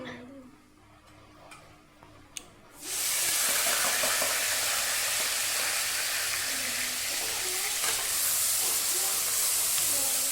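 Prepared spice paste dropped into hot oil in a frying pan, bursting into a loud, steady sizzle after a quiet couple of seconds and hissing on without a break.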